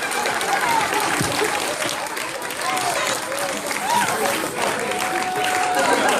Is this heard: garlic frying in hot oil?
no